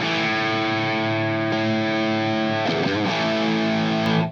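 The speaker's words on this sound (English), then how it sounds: "Quite a bit more distortion." Sustained, heavily distorted electric guitar chords through a Friedman Golden Pearl pedal ringing out, thick and saturated, with a short change mid-way before cutting off at the end.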